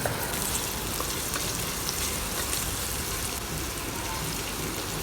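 Sliced onions sauté in ghee with spices, giving a steady, dense sizzling hiss that stays constant throughout, fairly loud and close, with no talking.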